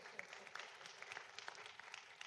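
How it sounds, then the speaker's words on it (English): A scattered handful of people clap at a community forum on jury service, quiet and fairly distant, the sparse claps spread unevenly through the moment. "Y'all can clap."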